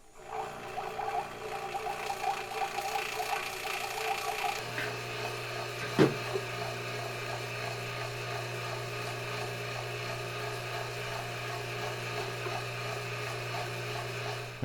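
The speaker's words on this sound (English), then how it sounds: "we vacuum out any air bubbles in the investment mix" A vacuum pump degassing investment mix for silver casting hums and rattles steadily, shifting to a lower, droning motor tone partway through, with a sharp clunk in the middle.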